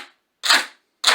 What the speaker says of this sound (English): Mrs. Evans, what do we have around the house that we can use to make scrapers? Well, I found a candy container